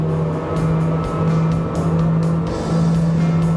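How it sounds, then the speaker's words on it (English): A Ranieri Cayman 33.0 Executive boat's engine drones at full throttle, a loud, steady high-revving roar that holds throughout the short stretch without talk. "Now, full throttle. What an acceleration, even in the highest part of the rev counter."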